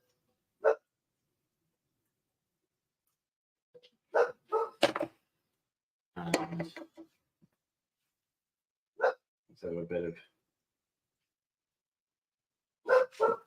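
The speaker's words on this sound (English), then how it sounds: "Who's she barking at, or what's she barking at?" A dog barks indoors through a window in short, separate bursts spread over several seconds, with a quiet voice talking between them.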